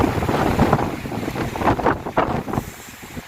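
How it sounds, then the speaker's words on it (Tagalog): Strong typhoon wind gusting through trees in Santa Cruz, Laguna, roaring as loud, uneven buffeting against the microphone with surging gusts and no talk. "ang lakas ng hangin dito kita na yung mga puno na nagigiga"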